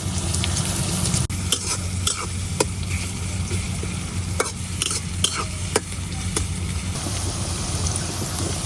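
Onions fry with whole garam masala in oil while being stirred, a steady close sizzle punctuated by regular scraping strokes and a few sharp clinks of the utensil, no talk.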